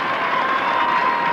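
Crowd at Parnell Park roaring encouragement during a 1999 National Football League Gaelic football match between Dublin and Armagh, a dense, loud and sustained wash of cheering.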